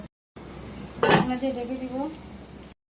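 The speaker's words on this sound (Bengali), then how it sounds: "আমি এখন একটু ঢাকনা দিয়ে ঢেকে দিব" A metal lid is set onto a cooking pot with a sharp clank, followed by a short ringing resonance and a faint kitchen background.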